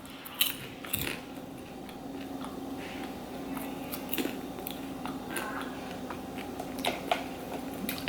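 Pickle-flavoured popcorn is chewed up close in quiet, irregular crunchy bites and mouth clicks, with several sharper crunches spread over a faint steady background hum.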